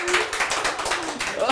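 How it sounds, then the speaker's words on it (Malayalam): Studio audience applause on a comedy talk show, a brief burst of clapping mixed under ongoing speech. "അതിന് കയ്യടി."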